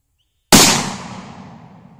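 A single loud revolver shot cracks out at a shooting range after a moment of silence, then rings off in a long, fading echo tail.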